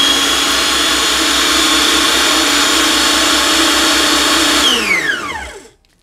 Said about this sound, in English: That goes in the food processor as well with the tahini.